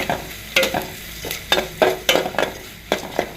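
Spices with raw turmeric, salt and green chili sautéing in a pan, heard as a series of sharp scraping stir strokes over a steady sizzle, with no voices.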